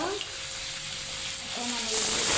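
Onion with ginger and garlic paste frying in oil gives a dense, even hiss close by that swells slightly toward the end, with no talk.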